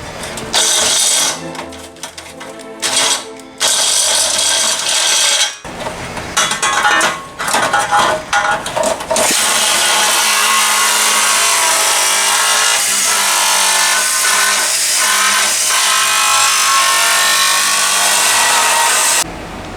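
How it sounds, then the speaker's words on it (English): Nibbler cutting sheet metal for a BBQ smoker stand, a harsh rapid chattering of metal punching in bursts with short pauses, then a longer continuous run, loud and close. "use the nibbler to come around"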